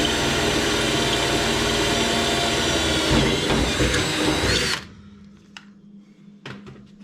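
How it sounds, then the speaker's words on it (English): Power drill boring holes during a rivet repair on a painted vehicle panel, a steady loud high whine running about five seconds and stopping abruptly, followed by a few faint clicks and knocks. "so I can drill some holes"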